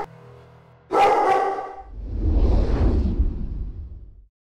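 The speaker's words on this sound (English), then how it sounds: "The Presa Canario is one respected dog in the right hands" A Presa Canario dog barks in a quick burst of two or three loud, close barks, followed by a broad rushing whoosh that fades away.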